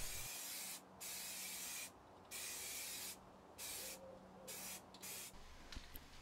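A second, thick coat of primer is sprayed onto a part for a Moto Guzzi Le Mans 3 cafe racer. Five or six soft, hissing spray-can bursts come in quick succession with short pauses between them, faint and steady, with no talking.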